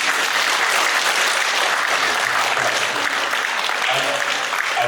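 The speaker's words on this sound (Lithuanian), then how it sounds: "Aplodismentai" Steady, loud applause from the audience at a newspaper readers' meeting held in the Alytus synagogue, continuous clapping by many hands for several seconds.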